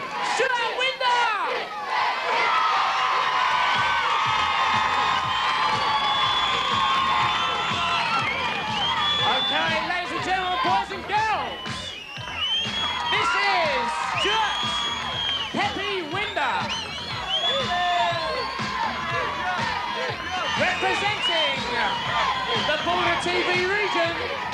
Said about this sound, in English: Let's give a nice big cheer!